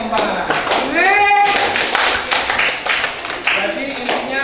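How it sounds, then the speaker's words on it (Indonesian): Classroom applause for a student group: a few pairs of hands clapping in quick, uneven bursts, mixed with children's voices and a brief tone in the middle. "beri tepuk tangan untuk kelompok 4"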